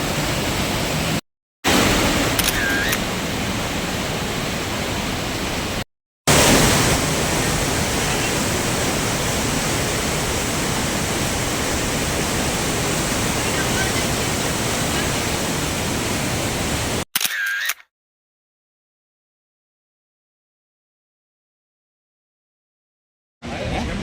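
Rhine Falls in Switzerland, a powerful waterfall throwing up thick mist, roaring as a dense, continuous broadband rush, broken by a few abrupt cuts and a long silent gap near the end.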